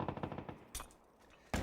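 Gunfire in a competitive video game league match: a rapid automatic burst of shots over the first half-second, then two sharp separate shots after a lull, loud and close.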